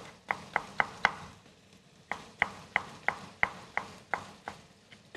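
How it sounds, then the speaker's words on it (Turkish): A knife chops a tomato into small pieces on a cutting board, about fifteen sharp, distinct knocks in uneven bursts with brief pauses, close and clear with no talking, in an Anatolian home kitchen. "Hemen domatesimizi de temizleyelim. Onu da aynı şekilde küçük küçük doğrayacağız."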